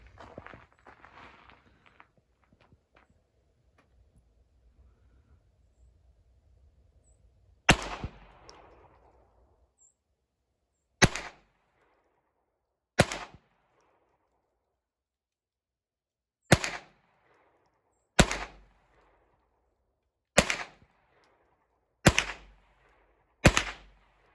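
Hi Standard Dura-Matic pistol firing Federal 36 grain Champion rounds outdoors: eight sharp, loud, separate shots at uneven intervals after a quiet stretch of faint handling noise.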